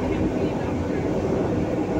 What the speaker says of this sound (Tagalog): Nakasakay po ako ng MRT